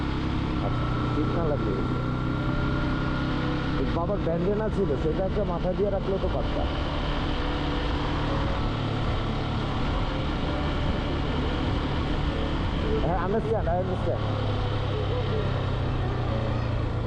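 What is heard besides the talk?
Yamaha motorcycle riding slowly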